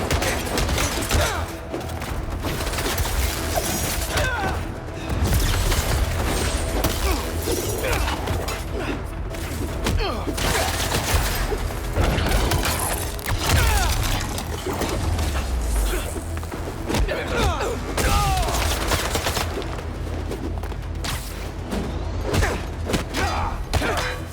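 Sustained gunfire from enemies in Marvel's Spider-Man 2, loud dense volleys with thuds, crashes and shattering mixed into a constant action din.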